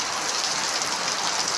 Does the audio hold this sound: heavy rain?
yes